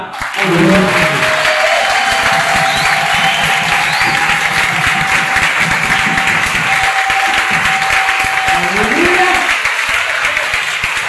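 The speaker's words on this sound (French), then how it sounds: "Donne le baptême des acclamations." A large church congregation at a mass prayer service applauds and acclaims at length, loud continuous clapping mixed with shouts and cheering voices rising over an amplified room.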